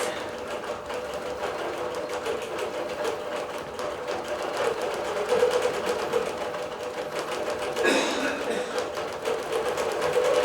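A computerized quilting machine stitching a quilt with stretch needles, a fast rapid mechanical chatter running steadily close by, briefly surging louder near the end.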